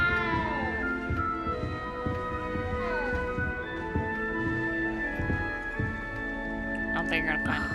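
A cat meows repeatedly inside a castle in the Hogwarts Legacy video game, its calls rising and falling over steady game music and background sound, with speech also present.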